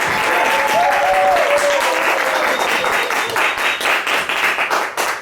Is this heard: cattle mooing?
no